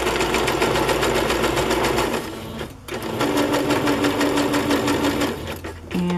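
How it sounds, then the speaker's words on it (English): Sewing machine running a straight stitch along the sides of a fabric pocket, a fast steady close mechanical chatter with a brief pause midway before stitching resumes. "So I'm going to use a straight stitch on the sides."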